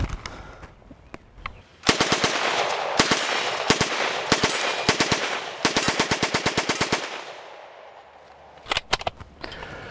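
A heavy submachine gun chambered for 9x19mm Parabellum fires in rapid bursts at a range, loud repeated cracks in several strings with short gaps, ending in a few scattered single shots.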